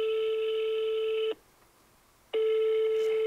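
Phone ringback tone while calling a renovation company in Toulouse: two loud, steady electronic rings, one lasting over a second, then a second of near-silence before the next ring begins.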